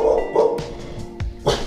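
A dog barks several times in short sharp bursts close by, on a farm where it is being handled around a young bull.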